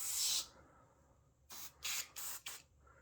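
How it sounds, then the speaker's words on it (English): Tuff Stuff foam cleaner is sprayed onto couch fabric: one longer hiss, a pause, then four quick close bursts in a row, each a sharp airy spray. "So basically just spray it on."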